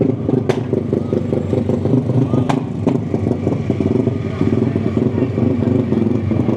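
A Suzuki 125 motorcycle engine runs nearby at a bike night in a pub car park, a steady, busy mid-pitched buzz with a couple of sharp clicks over faint background chatter.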